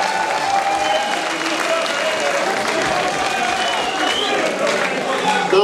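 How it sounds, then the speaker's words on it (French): A crowd at a national party meeting applauds steadily and loudly throughout, dense clapping with voices mixed in. "nous pouvons applaudir le parti national"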